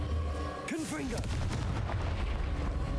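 A Confringo blasting curse from Hogwarts Legacy, fired at rocks: a sharp explosive boom with a swooping magical whoosh, then a rumbling tail of scattered crackles and debris. A spoken spell call comes just before the blast.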